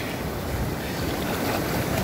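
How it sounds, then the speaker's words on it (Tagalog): Strong sea waves roll onto a beach in Brunei in a steady, dense roar of surf, with a windy rush behind it and no voices. "Dahil malalakas ang alon."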